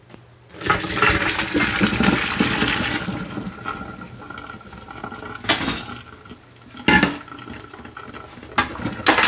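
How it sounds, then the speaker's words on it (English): Water pours from a pot of boiled vegetables into a strainer in a home kitchen, a loud rushing splash running for several seconds, followed by a few sharp metallic clanks of the pot and utensils. "We're just going to go ahead and take the pot and strain it."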